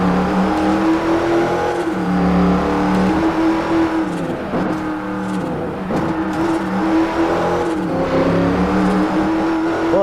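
A Ford race car in the Ford Challenge race in Forza Horizon, its engine revving and shifting up and down with a passing whoosh near the middle, loud and continuous without talk.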